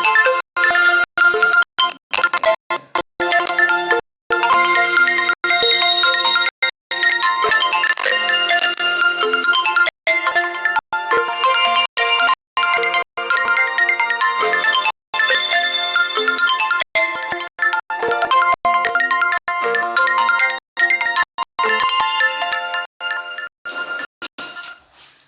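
Incoming call ringtone on a phone, a loud melodic electronic tune repeating continuously for about twenty-five seconds with brief gaps between phrases.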